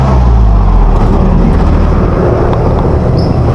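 A motorized tricycle's engine runs steadily at close range, a loud continuous low rumble with no pauses, ready to set off toward town under overcast, rain-threatening skies.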